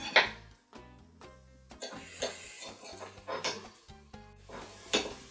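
Sausages for rougail saucisses being sliced and dropped into a cooking pot, with close clinks of utensils against the pot and scattered knocks and scrapes in an irregular rhythm.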